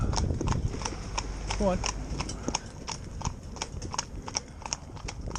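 Hooves of two horses driven in tandem, one in front of the other, clip-clop in a steady, fairly close rhythm throughout, with a person briefly speaking to them over the footfalls.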